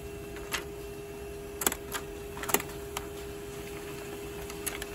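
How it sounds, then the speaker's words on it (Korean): A USB-connected printer runs off a test page with a steady mechanical hum, broken by scattered sharp clicks and ticks at uneven intervals and no speech. "이렇게 해서 프린터 테스트 페이지가 나왔습니다."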